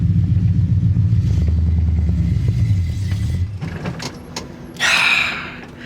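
An EFI-converted AMX pulls away in first gear, its engine rumbling loud and close with a rising note before easing off, followed by lighter clunks and a brief burst of hiss.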